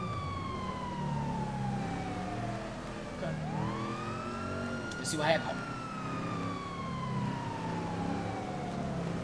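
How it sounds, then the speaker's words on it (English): Police car siren in the video game Grand Theft Auto V, wailing and sweeping up and down continuously over engine noise, with a brief sharp burst midway and a voice speaking briefly. "you got your sirens on and nobody seems to respect your authority"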